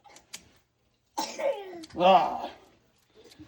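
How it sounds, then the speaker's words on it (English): A child coughs a few times in short, harsh bursts, close by, with brief quiet gaps between them. "That is my son coughing, so enjoy that."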